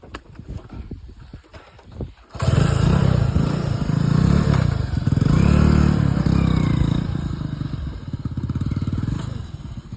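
A motorcycle ride with a loud, steady engine drone that starts abruptly after a couple of seconds of quieter clatter, then holds close and strong with slight revving swells.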